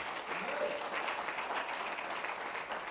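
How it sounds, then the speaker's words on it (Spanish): A church congregation claps together as an offering of applause, a dense steady wash of many hands at moderate distance lasting throughout, with faint voices mixed underneath. "dele una ofrenda de palmas al Señor"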